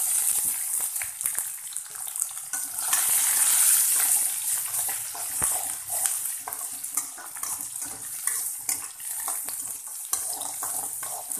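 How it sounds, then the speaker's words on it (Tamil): Onions, garlic and curry leaves sautéing in a pan with cumin for a black-eyed pea kuzhambu, making a continuous soft hissing sizzle that swells and eases slightly and runs alone. "வெங்காயம் வந்து கொஞ்சம் நல்லா வதங்கட்டும்"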